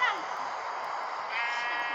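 A Minecraft Pocket Edition sheep gives a clear, drawn-out bleat that carries steadily from start to finish at close range.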